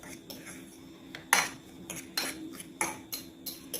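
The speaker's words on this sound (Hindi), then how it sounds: "इनको हम इस दूध में डालेंगे और इसे अच्छे से मिक्स करेंगे" Utensil scraping and clinking against a bowl while chopped tomato, onion and green chilli are mixed into milk, with several sharp, close knocks in an irregular rhythm over a low steady hum.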